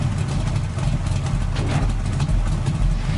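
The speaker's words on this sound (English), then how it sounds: "He's revving his V8 muscle car from 1970s." A 1970s V8 muscle car engine rumbles loudly and continuously with a deep throbbing idle, rising slightly in bursts as it is revved.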